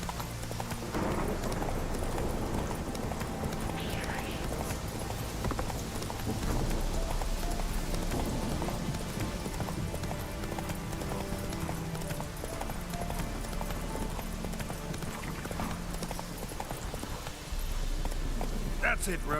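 Roach the horse gallops in The Witcher 3 with a rapid, steady clip-clop of hooves that runs almost the whole time, mixed with game ambience and someone talking over it.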